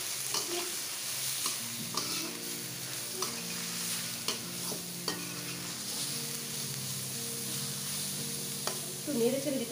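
Chopped carrots and other vegetables stir-fried in a pan for a chicken spring roll filling: a steady sizzle with scattered scraping clicks from stirring, set against soft tonal background music.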